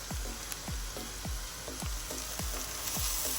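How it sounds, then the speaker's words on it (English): Onions and garlic sauté in melted butter over high heat, a steady close sizzle with a regular series of short low thumps running beneath it and no speech. "I melted some butter in a pan and I added some onions and some garlic"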